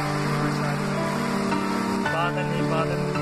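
Steady rain falls on a madrasa in Meel, a continuous dense hiss on surfaces with a constant low drone underneath and some talk mixed in.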